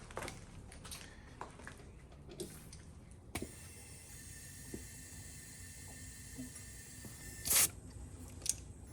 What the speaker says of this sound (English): So we're just spraying everything down with some soapy water.